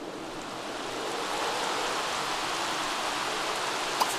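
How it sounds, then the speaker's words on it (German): Steady rain pours in The Sims 3 video game, a dense even hiss holding at constant loudness throughout, with a single tiny tick near the end. "hier regnet es jetzt zum Beispiel"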